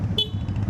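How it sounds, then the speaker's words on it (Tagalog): A Honda Navi scooter's horn gives one short, thin beep, loud and close over a low idling engine rumble. "may busina ka ba?"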